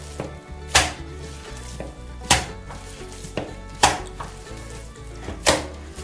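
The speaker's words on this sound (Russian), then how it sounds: "Теперь я этот фарш отобью" Minced meat for cutlets is slapped hard against a kitchen surface to beat it, giving four sharp, evenly spaced thumps about a second and a half apart, close and loud over quiet kitchen background.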